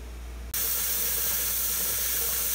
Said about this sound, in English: Now that's a hearty steam going.